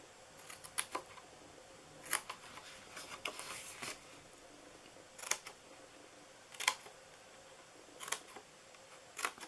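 Scissors snipping into the sides of a paper pumpkin treat box, a handful of crisp, close cuts spaced a second or two apart over a quiet background with no voices.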